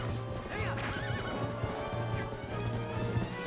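A horse in The Legend of Zelda: Twilight Princess HD whinnies loudly and close, a rising-and-falling neigh over steady galloping hoofbeats and busy game sound.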